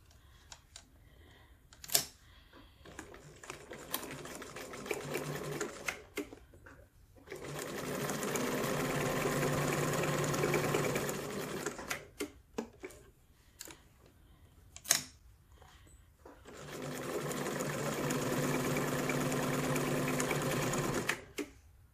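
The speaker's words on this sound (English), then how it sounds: "So I have sewn all the way around the edge with a straight stitch" Sewing machine running a straight stitch around the edge of a fabric heat pad, two long steady whirring runs separated by quiet handling clicks and fabric rustles, close and moderately loud.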